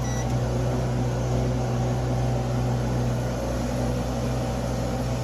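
A microwave oven runs on power from a propane generator, a steady low mechanical hum with constant tonal drone and faint whir throughout, no talking.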